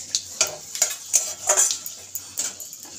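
Panch phoron spices with bay leaf frying in a pan while a metal spoon stirs and scrapes, giving repeated clinks and scrapes roughly every half second over a faint sizzle.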